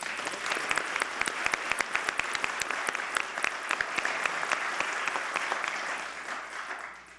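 An audience at a police chief's certificate of appreciation ceremony applauds his wife, producing a steady, moderately loud round of clapping with crisp individual claps standing out, fading slightly at the end.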